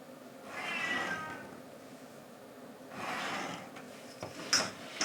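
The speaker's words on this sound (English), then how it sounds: "My old cat wants something, I guess." An 18-year-old cat meows close by indoors, two drawn-out plaintive calls followed by soft snorts and small clicks.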